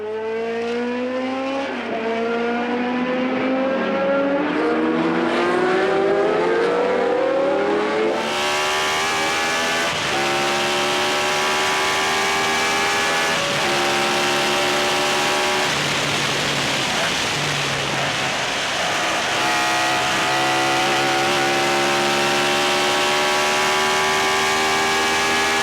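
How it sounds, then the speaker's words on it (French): Onboard a Gulf Mirage race car at the Spa-Classic 2011 historic race, the engine roars loudly during an overtake. Its pitch climbs through repeated sweeps broken by gear changes, with a surge of wind and track noise. "On embarque dans la Gulf Mirage pour le dépassement."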